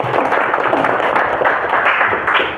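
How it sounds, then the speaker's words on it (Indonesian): A classroom of students gives a burst of applause, many hands clapping loudly and densely for a couple of seconds before starting to thin out at the end. "Tepuk tangan sekali lagi ya."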